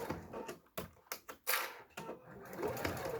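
A sewing machine stitches a minimalist fabric wallet in short, uneven bursts, sharp clattering runs starting and stopping close by, with a longer steady run near the end.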